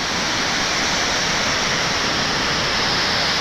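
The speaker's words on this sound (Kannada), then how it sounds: "ಸೊ ಶಿರಡಿ ಘಾಟ್ ಜೊತೆ ಇಲ್ಲೊಂದು ಫಾಲ್ಸ್ ಇದೆ ನೋಡಿ" A monsoon waterfall beside the Shiradi Ghat road near Sakleshpur pours in a dense, loud, unbroken roar of rushing water, with no voices over it.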